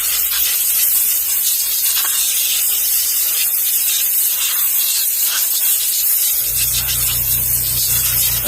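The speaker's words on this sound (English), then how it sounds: "I'll just hit it with a little bit of compressed air to manually cool it off" Compressed air blasts steadily onto a KYDEX sheath mold to cool it, a loud continuous hiss close up, joined near the end by the low steady hum of an air compressor starting; nobody speaks.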